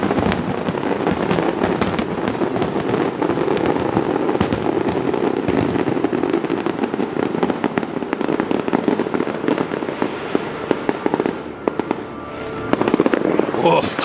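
A theme-park fireworks finale at Alton Towers erupts in a dense, continuous barrage of loud bangs and crackling bursts, with crowd voices mixed in under the explosions.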